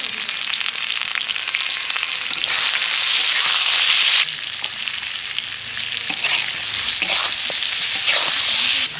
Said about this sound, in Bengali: বেগুনটা একটু ভেজে নিচ্ছি